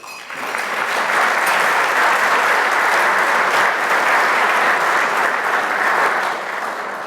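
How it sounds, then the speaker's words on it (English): A crowd at a high school athletic hall of fame induction ceremony claps for the previous year's class, a loud, sustained wash of applause that swells quickly and holds steady before easing off. "Round of applause for them, if you would"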